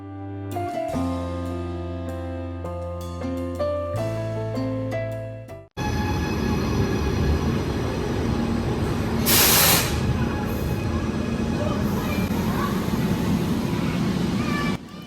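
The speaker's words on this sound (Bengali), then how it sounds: "ট্রেনটা খুবই আস্তে আস্তে আসতেছে" Tonal music plays, then cuts to a train slowly pulling into an Italian railway station: a loud, steady rumbling roar with a bright hissing burst midway and high squealing tones throughout.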